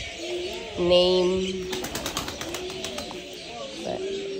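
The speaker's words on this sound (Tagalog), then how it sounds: "Mga ibon." Birds at Al Noman Park Zoo in Barka, Oman, coo softly, with a brief flutter of flapping wings in the middle, while people talk nearby.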